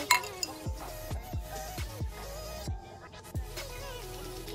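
Glasses clink together again and again in a drinking toast at a beach resort in Bintan, a string of bright close chinks over a soft background murmur.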